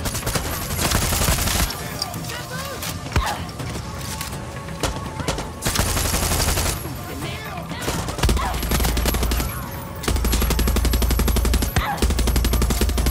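A gunfire shootout in the video game Far Cry 6: dense bursts of automatic rifle fire and single shots crackling in loud waves, with brief lulls between volleys, filling the whole stretch.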